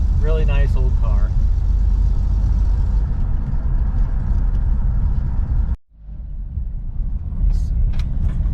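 A 1954 Chevy cruises along with a steady, low engine rumble and road noise, and a voice is briefly heard near the start. The engine sound drops sharply for a moment during a smooth gear shift, then picks back up.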